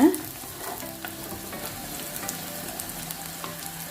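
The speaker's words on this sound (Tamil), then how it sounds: "நான் ஒரு 3 பச்சை மிளகாய் எடுத்திருக்கேன். அதை ஆட் பண்ணி நல்லா வதக்கிடுங்க." Three green chillies sauté in a pan for a chicken gravy, giving a quiet, even sizzle with small pops and crackles throughout.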